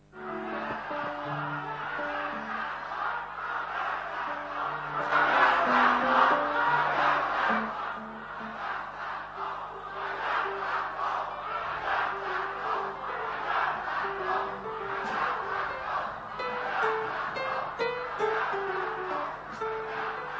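Supporters of a candidate pair chant campaign yells at a 2018 regency election public debate in Tulungagung, a loud crowd of voices shouting in rhythm, swelling midway and continuing steadily throughout.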